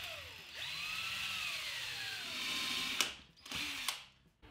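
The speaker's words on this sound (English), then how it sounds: "I'm going to countersink a few holes in this filler strip." A drill countersinks holes in a wooden filler strip for a platform storage bed headboard, a close whine that winds up, runs steadily for a few seconds, then stops with short follow-up bursts.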